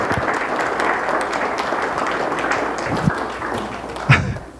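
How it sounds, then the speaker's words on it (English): Sustained audience applause at a climate and nuclear legacy summit's morning session, a steady dense wash of clapping with a couple of louder thumps near the end before it tapers off. "Can we give her a round of applause?"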